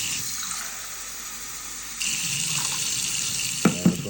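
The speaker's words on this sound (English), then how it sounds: "so I usually just add 2 cups of water to it." Water poured into a saucepan of thick pasta sauce: a steady gushing, splashing stream begins about halfway through and runs to the end, closing with a couple of sharp knocks of the pot or container.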